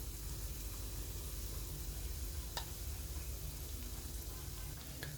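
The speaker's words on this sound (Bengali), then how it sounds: "তাই বড়াটাই আগে ভেজে নিই" Chana dal fritters frying in hot oil, giving a steady, even sizzle that holds for the whole stretch, with a faint tap near the middle.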